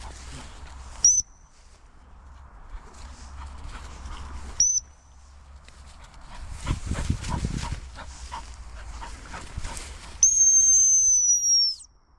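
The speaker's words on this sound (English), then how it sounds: "So as I roll the whistle" Dog training whistle blown in short sharp peeps and a longer trilled blast near the end, outdoors during a working dog session with rustling and movement between the calls.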